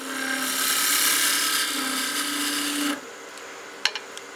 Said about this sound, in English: I'm just gonna peel cut down the body diameter